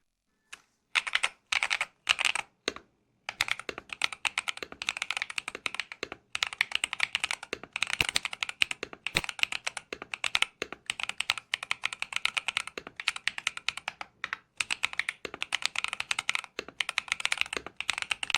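Rapid clacky keystrokes on a mechanical keyboard, typed in bursts with brief pauses, close and crisp with no talking.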